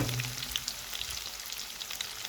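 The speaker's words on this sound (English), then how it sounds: "Now the oil is hot. I'm going to place the onions I slice." Sliced onions sizzle and crackle steadily in hot vegetable oil in a pan, a dense continuous frying hiss with no voices over it.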